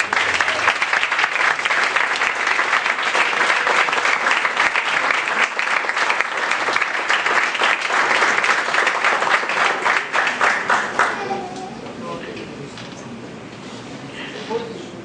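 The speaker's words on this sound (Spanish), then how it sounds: "Vamos a darle un fuerte aplauso al Señor." Church congregation gives a long, strong round of applause, dense and sustained for about eleven seconds with voices mixed in, then tapering off to quieter sounds.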